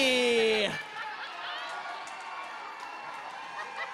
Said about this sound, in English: And the crowd certainly loved that